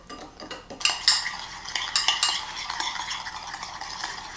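Jagua gel mixture stirred by hand in a bowl, a steady scraping and clinking of utensil against the container with soft wet swishing, close and continuous with no talk.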